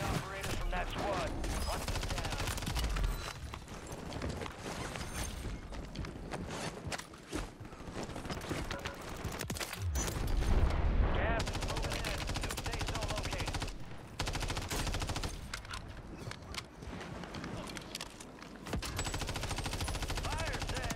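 Rapid automatic gunfire in Call of Duty on Rebirth Island, with sustained bursts and scattered single shots, some bursts close and punchy, running almost continuously while a player talks over the action.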